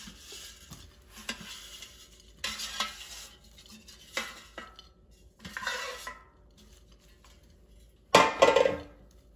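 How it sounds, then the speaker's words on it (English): Air-fried roasted cauliflower is moved onto a serving plate with a few soft scrapes and clinks of a utensil on dishware, ending in a louder burst of clatter near the close. "Let's put it on our serving plate."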